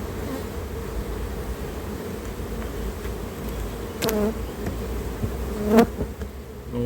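Honeybees buzz around an open hive in a dense, steady hum, with individual bees droning close past now and then.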